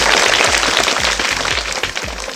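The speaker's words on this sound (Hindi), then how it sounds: "आप सभी लोग खुशबू के लिए एक ज़ोरदार तालियां बजाइए" An audience applauds a student contestant at a junior school quiz competition, a continuous loud wash of many hands clapping close by with a steady low rhythmic thump running beneath it.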